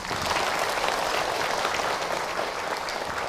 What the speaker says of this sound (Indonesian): Bagi tepuk tangan untuk Ahilman.